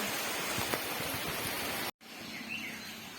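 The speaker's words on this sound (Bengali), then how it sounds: "দেখো বৃষ্টি কেমন হচ্ছে" Steady hiss of rain falling outdoors, with a brief cut partway through and a faint bird chirp afterward.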